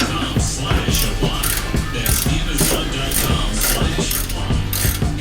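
Ratchet wrench tightening a mount bolt for a Low Doller Motorsports shock sensor, a fast steady run of loud, close metallic clicks from the pawl continuing throughout with no talk.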